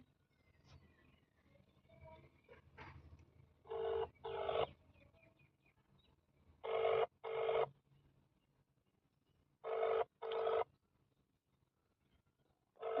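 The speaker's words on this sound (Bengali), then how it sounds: "ধরলো ফোনটা? না ধরছে না তো," A phone ringback tone sounds in three paired bursts separated by long quiet gaps, with no one picking up.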